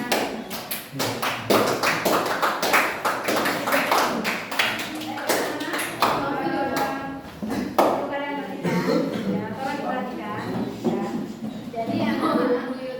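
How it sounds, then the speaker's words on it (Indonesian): Classroom applause for a student group in a cooperative lesson, a dense burst of rapid claps from many hands that thins into scattered slaps as children's voices and chatter take over. "Tepuk tangan untuk kelompoknya."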